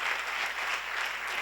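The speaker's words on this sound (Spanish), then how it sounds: "voy a respetar el aplauso" Audience at a conference breaks into applause, a steady dense clatter of many hands clapping, moderately distant and continuous for the whole moment with no talk over it.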